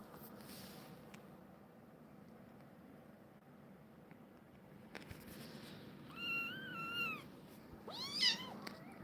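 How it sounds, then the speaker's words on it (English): An angry cat lets out two sharp, wavering meows near the end after a quiet stretch of faint background hum, the second cry louder and more strident. "Oh, Clax, that was an angry meow."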